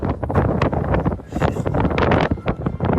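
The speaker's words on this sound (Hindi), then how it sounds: "बहुत हवा चल रही है" Strong wind buffets the microphone outdoors at Baku's Highland Park, a loud, gusty roar with rapid rumbling bursts that fills the whole stretch without a break.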